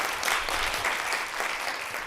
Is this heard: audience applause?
yes